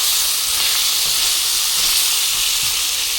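Wahoo fish frying in a pan for a coconut curry, a loud, close, continuous sizzle and hiss with no talking.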